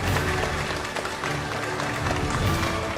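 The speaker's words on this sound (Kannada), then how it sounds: "ನಿಮ್ಮೆಲ್ಲರ ಜೋರಾದ ಚಪ್ಪಾಳೆಯೊಂದಿಗೆ ವೇದಿಕೆ ಮೇಲೆ ಆಹ್ವಾನಿಸ್ತಾ ಇದ್ದೀವಿ ಕಿಚ್ಚ ಸುದೀಪ" Audience at the News18 Kannada Varshada Kannadiga 2026 awards ceremony applauding as Kichcha Sudeep is welcomed on stage, dense sustained clapping from a large crowd with faint voices mixed in.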